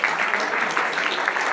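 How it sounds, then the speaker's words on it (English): An audience at a corporate keynote event applauds, with dense and steady clapping that fills the short moment. "How about a round of applause for that table back there?"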